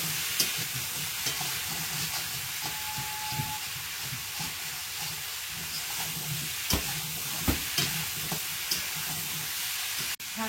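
Leafy greens fry in a pan over a home kitchen fire, giving a steady, loud sizzle and hiss with occasional stirring scrapes and sharp clinks, and no voices.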